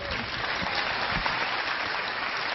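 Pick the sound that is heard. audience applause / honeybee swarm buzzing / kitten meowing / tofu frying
audience applause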